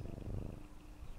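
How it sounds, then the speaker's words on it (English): A cat purrs in the video game Smalls Island Woes, a close, soft, rhythmic rumbling purr running steadily through the short moment. "Cat is also still there."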